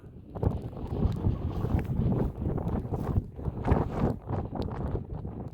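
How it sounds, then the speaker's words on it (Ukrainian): Gusty wind buffets the microphone in an open soybean stubble field, a rough, fluctuating low rumble that swells and dips throughout. "вже вибачайте трошки за вітер, але бачите, яка погода"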